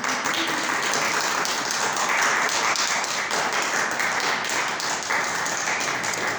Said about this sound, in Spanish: Un fuerte aplauso al Señor Jesucristo